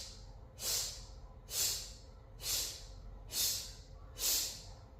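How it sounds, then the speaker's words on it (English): Breathing during exercise, demonstrated as five steady, evenly spaced breath rushes about one second apart, close and fairly soft over a low background hum. "normally the breath looks like this"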